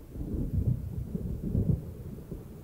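Low rolling thunder from an approaching storm in the game Alan Wake Remastered, deep rumbles swelling twice in close succession, fairly quiet with no talking.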